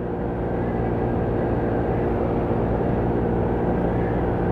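A 2018 Taotao Pony 50cc moped runs at full throttle, giving a steady, loud, droning engine buzz mixed with wind rush, unbroken for the whole stretch with no talking.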